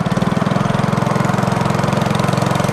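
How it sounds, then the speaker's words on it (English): A boat outboard motor fitted with an Autolite AR3910x spark plug runs up close, chugging in a fast, even pulse with a steady, loud mechanical drone and no voices. "You crank it up, you give it some rev, make sure it's running"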